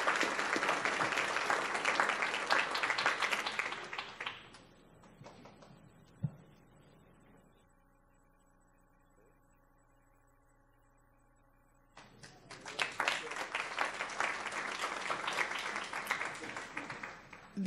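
An audience at a Palm Beach County school awards ceremony gives an honoree a round of applause: a burst of steady clapping fades out, a quiet hum follows, then a second, equally full wave of applause.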